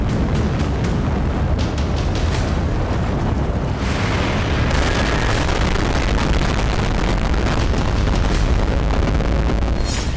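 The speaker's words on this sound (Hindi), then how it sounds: "समंदर से 100 किलोमीटर ऊपर एक बड़ा धमाका हुआ।" A huge explosion high above the Red Sea, near the edge of space, rolls on as a loud, continuous rumbling roar with crackling bursts, sustained and booming for the whole stretch.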